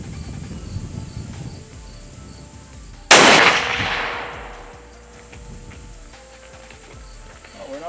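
A gunsmith-built long-range rifle fires a single loud, sharp shot outdoors, its blast echoing and fading slowly over a background of insects and faint ambient noise.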